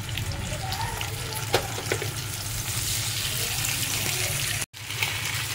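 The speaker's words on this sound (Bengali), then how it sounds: "মাছগুলো ভেজে নিচ্ছি।" Fish rubbed with turmeric and salt fry in hot oil with a loud, continuous close sizzle and crackle, while rain falls outside.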